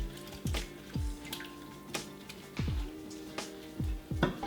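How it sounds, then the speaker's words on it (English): Water runs into a deep cooking pot for chicken pho, heard as a string of separate splashing, dripping gulps at irregular intervals, fairly close and moderate in volume with no talking. "And then you'll just fill the pot with water,"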